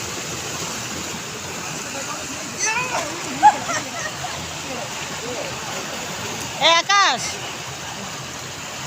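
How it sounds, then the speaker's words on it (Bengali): A village waterfall falls in a steady, close rush of water with occasional splashes, probably from people bathing nearby. Voices speak briefly over it twice. "ঝর্ণার জল পড়তেছে।"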